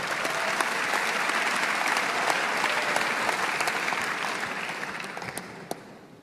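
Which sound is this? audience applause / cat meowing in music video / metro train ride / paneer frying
audience applause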